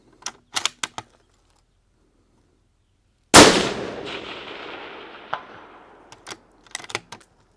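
A single loud rifle shot fired at a moving target cracks sharply and rings out in a long decaying echo, framed by a few faint clicks and handling noises before and after.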